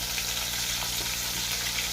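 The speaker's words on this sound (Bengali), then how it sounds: "পেঁয়াজগুলো আমি ভেজে নেবো লালচে লালচে করে" Steady, dense sizzle of onions frying in hot oil, continuous and close without pause.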